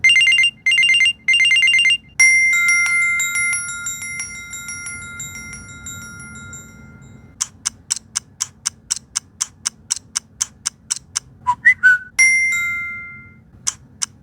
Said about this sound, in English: let me go and show you out some of the sound effects on the Galaxy Gear